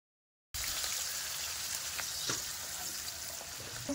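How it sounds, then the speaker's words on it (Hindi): Onion and garlic paste hits hot oil in a pan, starting abruptly after a brief silence and then sizzling steadily and crackling close by, with occasional pops and no talking. "अब इसको थोड़ा फ्राई कर लेंगे, हल्का सा कलर चेंज हो जाए।"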